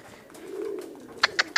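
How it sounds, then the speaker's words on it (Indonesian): A pigeon in a racing-pigeon loft gives a low, soft coo that swells and fades, followed by a few sharp clicks or taps nearby. "Ini burung dari Lumajang."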